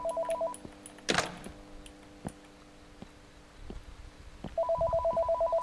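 Telephone ringing in a rain-soaked morgue scene from a Korean horror game: repeated electronic ring bursts at the start and again at the end, with a loud thud and ticks between them.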